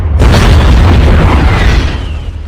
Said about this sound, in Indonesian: lalu meledakkan ranjaunya tepat di bebenguk si Yuli